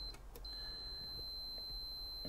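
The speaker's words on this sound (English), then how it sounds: "Just going to try and see now when the actual continuity beep stops." A Fluke 196C ScopeMeter sounds its continuity beep as a single steady high-pitched tone that starts almost at once and holds to the end, faint against a quiet electronic background.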